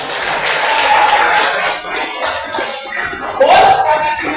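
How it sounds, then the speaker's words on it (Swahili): Audience applause at an SME empowerment forum in Changamwe, a dense, loud patter of many hands clapping from a crowd, steady with a brief swell near the end. "makofi robo jamani."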